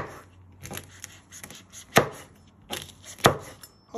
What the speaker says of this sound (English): You first want to chop it down the middle. Put it to one side. Just like that. And then you just want to slice it.